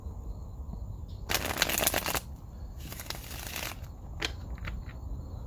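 Cards are riffled and shuffled in a few quick bursts, crisp flapping rustles close up with short pauses between them.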